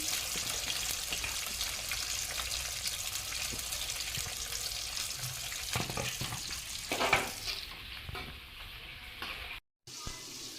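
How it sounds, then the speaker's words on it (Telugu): Onions, green chillies and fenugreek leaves sautéing in oil for egg pulusu, heard as a quiet, steady sizzle with scraping stirs around the seventh second before the sound briefly cuts out near the end. "ఉల్లిగడ్డలు అయితే మగ్గుతున్నాయి కదా ఫ్రెండ్స్"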